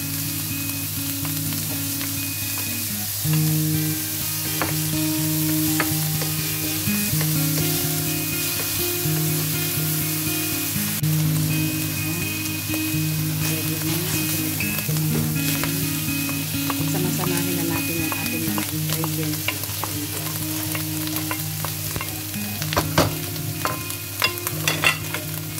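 Bacon sizzles and crackles steadily in a frying pan while being cooked for simple fried rice, a dense continuous hiss with occasional stirring scrapes and pops.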